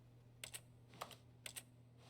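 Several distinct key presses on a computer keyboard, arriving in small clusters of two or three taps with short pauses between, close and fairly quiet over a steady low background hum, no talking.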